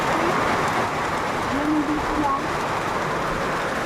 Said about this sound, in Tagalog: Ay, grabe, ang lakas ng ulan.